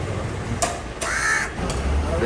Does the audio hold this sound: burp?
no